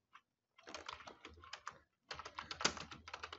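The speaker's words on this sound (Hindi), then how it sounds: "अब देखिए, मैं यहाँ पर टाइप करता हूँ" Fast typing on a computer keyboard during a typing speed test, with quick, dense key clicks in two bursts and a short pause between them, close and alone.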